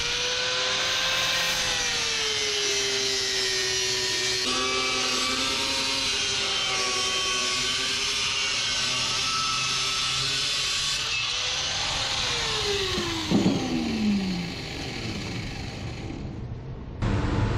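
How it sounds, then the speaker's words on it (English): An angle grinder slices through thin sheet metal with a steady, loud high-pitched whine that wavers in pitch as it bites, then winds down with a falling tone near the end. "I'm going to use my angle grinder to cut this off."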